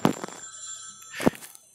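A telephone rings in the mobile survival horror game Silentum: Overture, in short, loud bursts with a thin high tone behind them and no talk.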